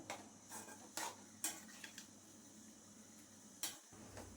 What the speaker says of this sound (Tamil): தேங்காய் துருவல் சேர்த்துனதுக்கப்புறம் நல்லா வந்து கிளறி விட்டுருணுங்க